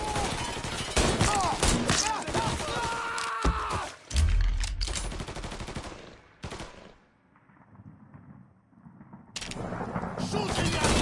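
Gunfire in the Mafia III video game, dense rapid bursts of loud automatic shots followed by heavy low booms, then a quieter lull before the shooting resumes.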